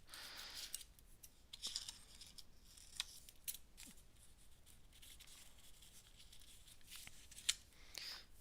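Scissors snip through a paper doll's paper dress in quiet, close cuts, several sharp little snips and rustles scattered over a faint, hushed background with no talking.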